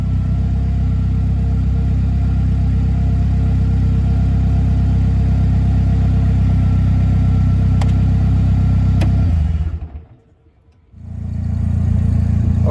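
A 2015 Polaris Slingshot SS, unused for nine days, idles after a cold start with a loud, steady low engine rumble. The engine cuts out briefly near the end, then the rumble returns.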